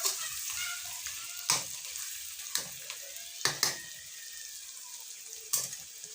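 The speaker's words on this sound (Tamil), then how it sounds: "நல்லா இஞ்சி பூண்டு பேஸ்ட் வாசனை போகிற அளவுக்கு வதக்கிடுவேன்." Ginger garlic paste sizzles steadily in a pan for a chicken dish, with a spoon scraping and knocking against the metal at irregular intervals over a constant hiss.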